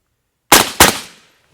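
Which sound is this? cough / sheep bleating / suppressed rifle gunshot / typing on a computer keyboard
suppressed rifle gunshot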